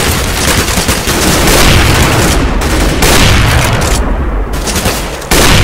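A grenade explosion in Counter-Strike gives a loud, dense burst of booming, rumbling noise that fills the whole clip, with brief dips and a sharp renewed blast near the end.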